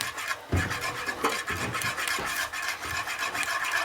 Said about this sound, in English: We're going to whisk this until the cheese is all melted and nice and smooth.